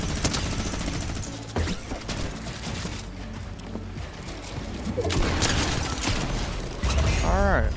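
A minigun fires in a video game, its rapid bursts of loud gunfire running almost continuously over several seconds, with crashes and impacts mixed in and a voice talking over the shooting.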